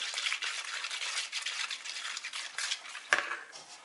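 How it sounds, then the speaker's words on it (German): Raggmunk potato pancake batter being stirred after an egg is added, a steady scraping swish of utensil against bowl running throughout, fairly close, with one sharper clink near the end; no voices. "Umrühren."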